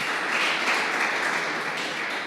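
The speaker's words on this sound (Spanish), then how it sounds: "Vamos a dar un aplauso al Señor." A church congregation applauds during a sermon, giving a dense, sustained burst of many hands clapping together that fills the room evenly for a couple of seconds.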